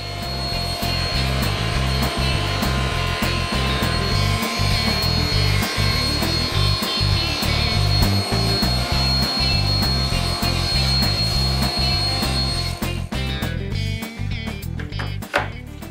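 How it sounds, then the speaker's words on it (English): Saw cutting 4x8 plywood sheets down to size, a loud continuous whining motor drone with a rough cutting texture throughout, clattering near the end. "With the saw all set up, I begin cutting the 4x8 sheets of plywood down to size."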